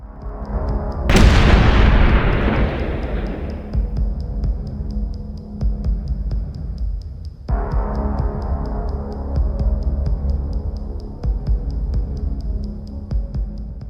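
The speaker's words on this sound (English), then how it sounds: "The second explosion sent shockwaves through the formation, igniting ammunition stored in the cargo bed of another vehicle." A drone strike on Russian military trucks full of troops at the frontline sets off a loud explosive boom that rolls into a long low rumble, followed by a second deep blast, with a steady whine running underneath.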